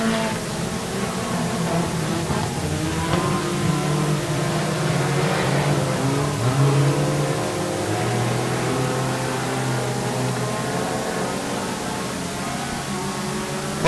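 IMCA sport compact race cars run a feature on the dirt track at Quincy Raceways, a steady blended engine drone heard from a distance with wavering pitch, loud and continuous.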